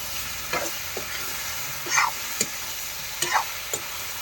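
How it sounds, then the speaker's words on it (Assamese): Cauliflower and potato pieces fry in oil in a pan, with a few separate stirring scrapes spaced about a second apart over a steady, close sizzle. "ফুল চব্জি আলু দিলোঁ লগতে, এতিয়া ফ্ৰাই কৰোঁ।"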